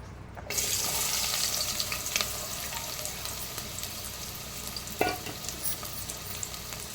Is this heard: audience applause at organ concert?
no